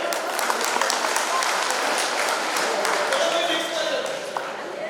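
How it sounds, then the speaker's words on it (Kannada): Loud, steady applause fills the room as a woman customer steps onto the stage at a giveaway event, a dense, continuous wash of clapping with no break. "ಅವ್ರಿಗೋಸ್ಕರ ಜೋರಾಗಿ ಚಪ್ಪಾಳೆ"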